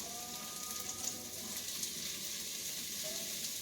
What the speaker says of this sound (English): Okay, I'm going to throw my onions in there. Everything in the pot.